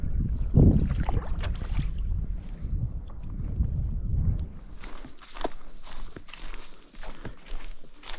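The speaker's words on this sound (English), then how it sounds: "Gonna get the canoes loaded up and get to paddling on our first lake to our first portage." Loaded canoes paddled across a wilderness lake, with close water swishes and knocks against the hull, wind buffeting the microphone and quieter watery dabbing later on.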